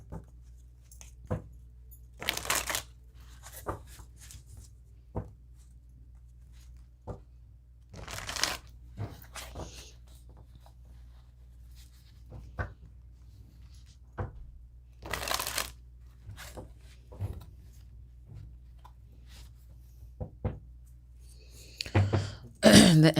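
Tarot cards being shuffled, repeated bursts of crisp riffling and flapping, close and fairly loud, separated by quiet gaps with a few soft handling clicks.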